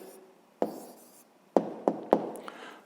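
A pen writes a numerical answer by hand for a sixth-grade maths exercise on cube and box volume, giving a few sharp, close taps and short scratchy strokes against a quiet background, with no talking.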